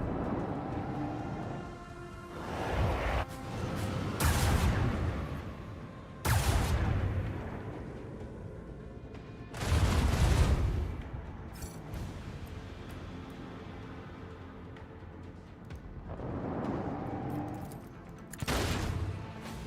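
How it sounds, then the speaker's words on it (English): A torpedo payload detonates in a fantasy role-playing video game, heard as several loud, booming blasts with rumbling tails spaced a few seconds apart, with no one speaking. "I just detonated a torpedo there, in between those two"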